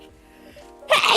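A single loud sneeze bursts out at the very end, preceded by a quiet, tonal, hummed breath.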